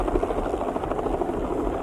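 Rescue helicopter hovering overhead during a search-and-rescue demonstration, with a dense, steady rotor roar and rapid blade thumping that stays loud and continuous throughout the short stretch.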